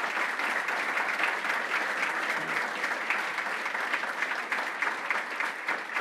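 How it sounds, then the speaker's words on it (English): Dense, steady audience applause fills the whole stretch at the New York State Fair during the governor's announcement, an even wash of many hands clapping without pause. "let's give a huge round of applause to every member of my cabinet"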